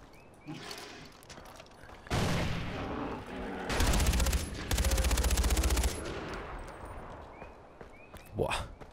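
Far Cry 4 combat with grenades and gunfire: loud bursts of rapid firing and heavy booms come in sustained blocks through the middle, with quieter game ambience before and after.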